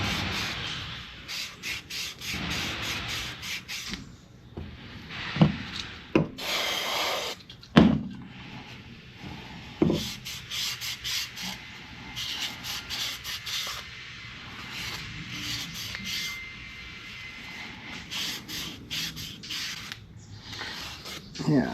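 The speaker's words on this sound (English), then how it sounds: "So this is just a Scotch-Brite pad" A Scotch-Brite pad scrubs a starter part from a Johnson 48 Special outboard motor in repeated scratchy strokes of uneven rhythm, close and moderately loud. Occasional knocks and clunks break in.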